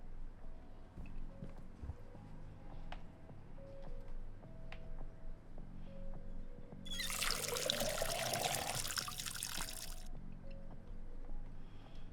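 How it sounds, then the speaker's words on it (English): Water pours steadily from a watering can onto a weed plant in the game Schedule I, a broad splashing gush lasting about three seconds against quiet background hum and soft game sounds. "Fill up the watering can at the sink and water the other weed plant."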